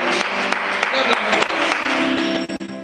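Church congregation clapping and cheering during worship, dense continuous applause mixed with voices and singing, loud and close throughout.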